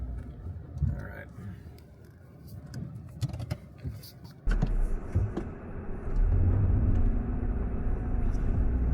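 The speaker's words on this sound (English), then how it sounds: "I'm gonna put it in low gear first and just crawl" A Ford Fusion crawls up a small hill in low gear, its engine giving a low steady rumble that grows louder and fuller partway through, with some clicks and handling noises in the cabin.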